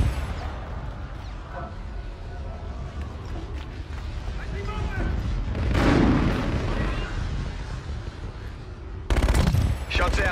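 Gunfire and combat noise from Call of Duty: Infinite Warfare, a dense, continuous barrage of shots and blasts with a louder swell midway and a sharp burst near the end, under a military radio voice.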